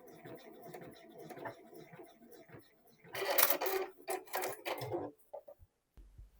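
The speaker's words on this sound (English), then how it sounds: "Pivot once more and sew back down to the horizontal stitching line." A sewing machine stitches a patch pocket on boxer shorts in a quick burst of rapid whirring, stopping and starting briefly around quieter handling sounds.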